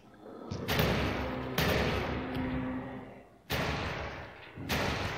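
Gunshots fire in a zombie VR shooter game as a few sharp, sudden blasts spaced about a second or more apart. Each blast is followed by a short decaying rumble, and the shots stand alone at moderate loudness.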